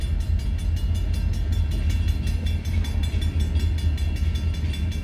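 A Canadian National freight train rolls past close by, a loud steady rumble with rhythmic clickety-clack of wheels over rail joints throughout, no voices.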